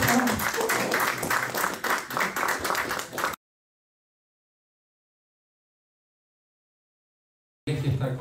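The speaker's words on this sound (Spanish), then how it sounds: "Un aplauso para él" Audience at an intellectuals' club event applauding for about three seconds, busy clapping mixed with a few voices, then a long dead gap before clapping and murmur briefly resume.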